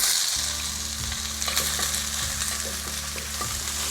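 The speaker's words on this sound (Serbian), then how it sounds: "u ovaj poluprodinsali luk dodajemo šargarepu" Grated carrot goes into half-fried onion in a hot pan for a Chinese-style crispy chicken and noodle dish, producing a steady close sizzle with repeated spatula stirs and scrapes throughout.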